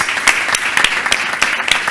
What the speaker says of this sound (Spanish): Un aplauso rapidín para ellos.